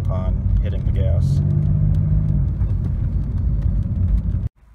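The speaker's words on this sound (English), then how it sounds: "It has a stall converter, which you can tell immediately upon hitting the gas." A turbocharged Chevrolet Beretta with a stall converter accelerating: a loud, steady low engine drone heard from inside, rising slightly, then cutting off abruptly near the end.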